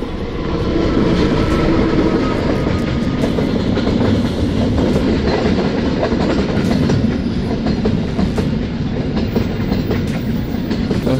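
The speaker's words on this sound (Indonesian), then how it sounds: "Ini keretanya kereta barang nih teman-teman nih." A long freight train rolls past a manual level crossing, a loud, steady rumble with rhythmic clickety-clack from the wheels and faint metallic squeals, close by and continuous throughout.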